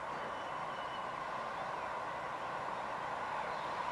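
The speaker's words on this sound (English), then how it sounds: "Just about to pass through, we have a train from Transport for Wales." A Transport for Wales diesel multiple unit passes close by with a sustained, even rumble and hiss of wheels on rail, loud and unbroken throughout with no talking.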